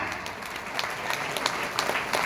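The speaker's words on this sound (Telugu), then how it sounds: "చేతులు ఉన్న ప్రతి ఒక్కరు కొట్టచ్చు క్లాప్స్ గట్టిగా." Continuous applause from a crowd at a seminar fills the whole stretch, many hands clapping at once in an even wash of moderate loudness.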